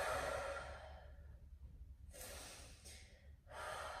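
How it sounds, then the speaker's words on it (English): Deep, slow breaths are taken while holding a hip stretch, with long airy inhales and exhales recorded close and soft, separated by quiet gaps, and no speech. "let's breathe here for a few seconds"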